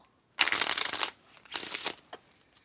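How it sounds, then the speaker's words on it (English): Playing cards riffle-shuffled twice up close: a long crisp fluttering burst, a pause, then a second shorter riffle, with a faint tap afterward. "perfect Pharaoh shuffle. Do a riffle shuffle."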